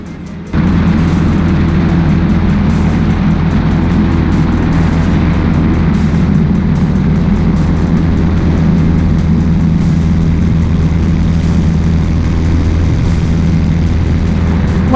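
Light aircraft engine at full throttle during stall practice, a loud, steady, droning roar heard from inside the cockpit without a break.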